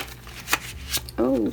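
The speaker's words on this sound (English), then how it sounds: "let me do a shuffle" A light shuffle of a tarot deck gives short papery riffles and rustles up close, followed by a brief spoken exclamation from a woman.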